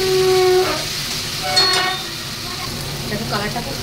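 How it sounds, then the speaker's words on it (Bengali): Spice paste sizzles in a hot pan while being stirred, a constant frying hiss broken by light scraping, with a voice speaking over it. "এবার আমি মশলাটাকে আবার নাড়াচাড়া দিচ্ছি।"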